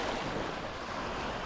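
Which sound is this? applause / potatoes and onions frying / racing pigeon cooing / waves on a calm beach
waves on a calm beach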